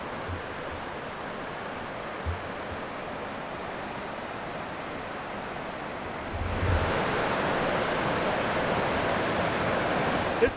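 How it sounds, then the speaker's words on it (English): A river in Elkmont, Great Smoky Mountains, rushes in a steady broadband wash that grows louder and fuller partway through, continuous and nearby with no voices. "we're going to check out the river"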